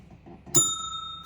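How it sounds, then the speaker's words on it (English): A single bright bell strike rings out close and clear, its tone lingering briefly after a quiet start. "Ring the bell."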